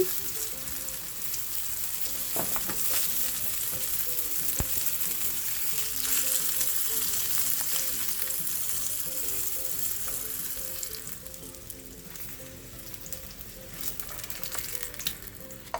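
Salmon fries in a pan with a continuous close crackling sizzle and scattered pops, easing off slightly toward the end; no talking.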